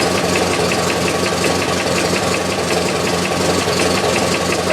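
Engine of a 1919 Ford Model T Speedster runs at idle, with a steady mechanical knock tapping through a dense, continuous rumble. It sounds loud and close, with no talking over it.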